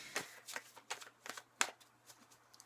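Tarot cards being shuffled in quick bursts, a string of soft riffling flicks at an uneven rhythm, close and quiet with no talking.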